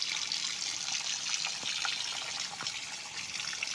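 Continuous bright water flowing and splashing from a spring beside a river on a farm lot, with a couple of small drips, close by and steady with no voices.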